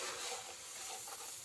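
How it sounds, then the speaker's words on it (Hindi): Batter being mixed by hand after sugar is added, a soft continuous scraping and swishing of a spoon through thick mixture, close and steady for the whole moment with no voices. "इसे अच्छे से मिक्स करेंगे।"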